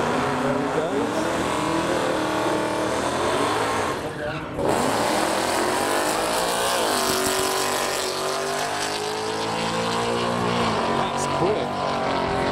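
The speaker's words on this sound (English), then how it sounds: "We've got the Mustang rolling up." A Ford Mustang rolls up at a modified car show, its engine note rising and falling steadily at close range, with a brief dip partway through and some background chatter.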